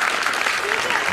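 Dense audience applause for teachers at a school annual function, loud and continuous throughout, a crowd of many hands clapping with voices mixed in.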